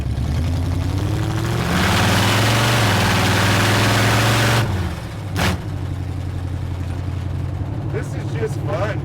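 Loud Cadillac engine fitted in a 1938 Ford rat rod idling close by, a heavy low rumble that swells briefly early on, then settles to a steady throbbing idle with a sharp blip midway, people talking over it.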